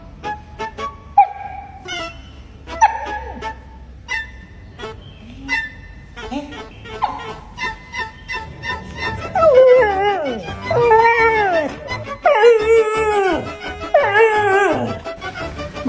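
A husky dog whimpers, yips and breaks into drawn-out, wavering howls, loud and close, the cries growing longer and more tuneful toward the end.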